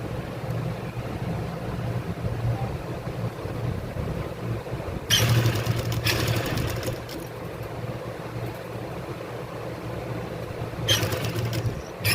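A sewing machine stitching piping onto a kurti, a steady low mechanical hum and rattle running close throughout, with a couple of brief louder bursts.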